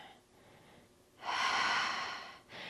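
A soft, close breath during a Pilates exercise, faint at first, then a long drawn airy breath lasting over a second, followed by a shorter one.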